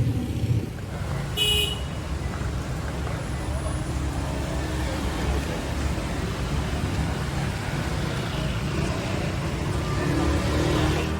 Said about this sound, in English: Sorry about the noise, there's motorcycles always going by.